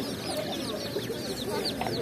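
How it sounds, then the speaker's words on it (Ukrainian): Small chickens cluck and cheep at an outdoor market in the Lviv region, a busy mix of overlapping, close chirps and clucks over steady market background noise. "Кури такі, малесенькі,"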